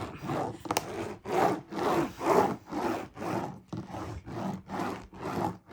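A roller pushed over a diamond painting canvas with resin drills, giving a rhythmic series of about seven close, gritty rolling rasps, each lasting under a second, back and forth with no talk.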